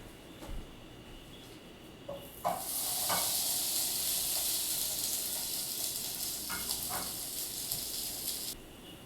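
Plant-based burger patty laid into a pan over a medium-low flame, a few soft handling knocks and then a loud, steady sizzle that holds close by before cutting off near the end.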